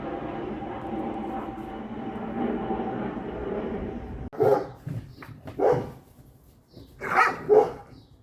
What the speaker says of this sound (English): Our neighbor dog.